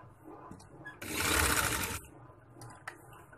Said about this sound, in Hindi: यहाँ तक आपने किनारे तक सिलाई को लेके आना है